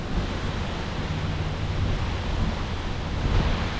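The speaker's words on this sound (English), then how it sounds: "Waves like this scare me in a canoe." Large waves on the Mississippi River in Wisconsin, heard as a continuous loud roar of surf and wind-blown water with a steady low rumble and no voices.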